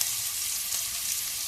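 Frying in a pan for mushroom curry, heard as a short, even, hissing sizzle with a faint stir partway through.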